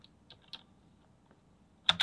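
Sparse, soft keystrokes tap on a computer keyboard, a few isolated clicks, then a brief louder cluster of presses at the end, heard alone in a quiet room.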